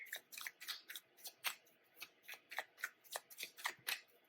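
Tarot cards shuffled and drawn from a deck, a quick run of crisp papery flicks and snaps in close succession, near and fairly quiet with no talking.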